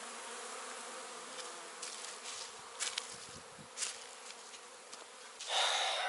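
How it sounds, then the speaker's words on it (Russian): Honeybees on their spring cleansing flight outside the hives make a continuous close buzzing hum, with individual bees swelling louder as they pass near. "У меня пчелки уже проснулись, работают."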